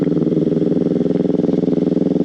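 A Kawasaki Ninja motorcycle, a 650 or 400, runs steadily at close range, its engine giving a loud, even pulsing throb with no voices.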